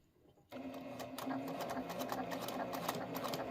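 Sewing machine stitching fabric with the guard on: a quiet start, then a steady, close, rapid mechanical chatter of the needle running continuously, with no talk.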